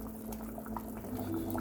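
A pot of water at a rapid boil for chicken and dumplings, giving a steady, continuous bubbling roar close to the listener, with no talking.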